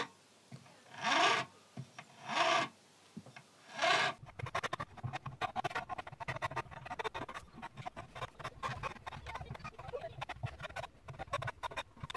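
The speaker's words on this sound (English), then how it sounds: "we get out this flat file and just round them over as well" Flat file rasping over the fret ends of a Squier VM Thinline Telecaster, three slow separate strokes followed by a quicker run of short scraping strokes, close and alone.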